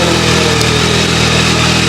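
A 2025 Yamaha R9 motorcycle engine idling steadily, loud and close, a constant even rumble with no talk.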